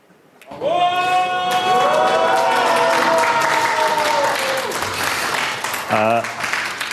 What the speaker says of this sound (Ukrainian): Нормально поаплодуйте, щоб вас почули в трансляції.